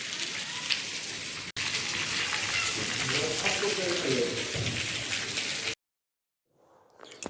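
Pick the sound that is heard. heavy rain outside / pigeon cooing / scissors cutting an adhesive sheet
heavy rain outside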